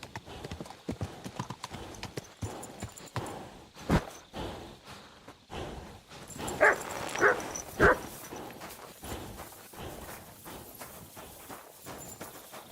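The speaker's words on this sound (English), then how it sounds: "Them horses were breathing heavy." Video game horse hooves clip-clopping steadily with snorting and heavy breathing, a few louder snorts midway, close and clear.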